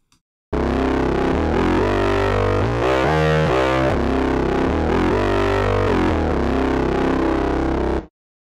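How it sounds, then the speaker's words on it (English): A Moog Sub 37 analog synthesizer plays a thick, distorted sustained patch widened by a short convolution reverb, shifting through several held notes with a gritty buzzing section, starting abruptly and cutting off cleanly, alone without talk. "A really short convolution reverb makes it wide, makes it a little bit fatter too. So that's what it sounds like with this on."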